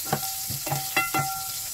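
Onion and ginger stirred into a hot pan of oil, giving a steady low sizzle broken by four or five short scraping stirs and clinks, with a faint tone ringing through.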